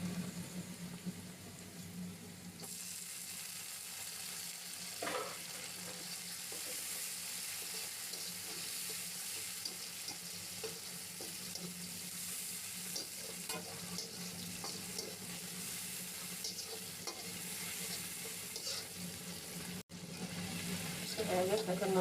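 Onion and tomato fry in a pan while being stirred for a noodle dish, a continuous soft sizzle broken by scraping stir strokes, with faint background voice.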